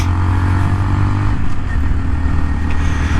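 A 2019 Honda Monkey with a 125cc single engine running steadily and close, a low thrumming drone that shifts pitch partway through, with no talking.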